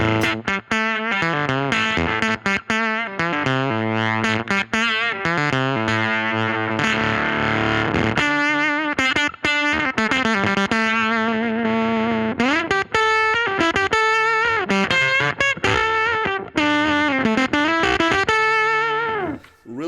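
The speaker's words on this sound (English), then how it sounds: "Really cool fuzz kind of sounds." An electric guitar plays through a Dr No Evil Motherfuzzer fuzz pedal, with thick distortion, sustained buzzing chords and runs, loud and continuous with no talking.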